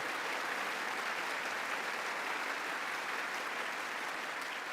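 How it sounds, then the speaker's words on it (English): Congressional chamber filled with sped-up clapping, a rapid, unbroken roar of applause from a large crowd, even in level and somewhat distant, with no talking on top. "The sped up clapping does lend it the correct air of farce"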